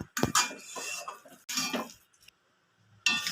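A spatula scrapes and clinks against a bowl while mixing a meatless kebab mixture, two bursts of scraping strokes close up separated by short pauses, and then a third begins.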